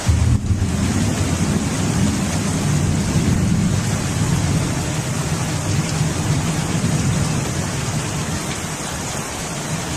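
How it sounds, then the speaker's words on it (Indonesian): Steady heavy rain pours down continuously for the whole stretch, with a deep rumbling low layer suggesting distant thunder beneath the hiss, loud and unbroken with no voices. "Nah, hujan."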